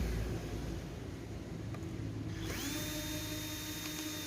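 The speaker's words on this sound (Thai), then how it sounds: "ก็ใส่ตลบิดสว่านมาหั่นน็อตออกน็อตก็มีหกอัน" An electric screwdriver drill spins up halfway through with a rising whine, then runs steadily at high speed removing screws from a Bluetooth speaker, close by, after a stretch of quiet background hum.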